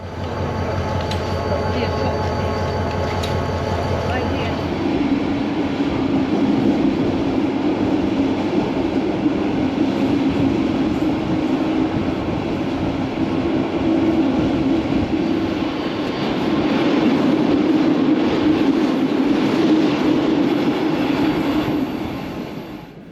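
Trainkos local passenger train running in Kosovo, heard from on board as a steady, loud rumble and rattle of the carriage on the rails, a low engine drone through the opening seconds, the roar swelling again near the end.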